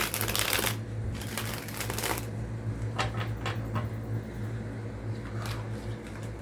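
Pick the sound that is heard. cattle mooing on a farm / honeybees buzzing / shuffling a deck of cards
shuffling a deck of cards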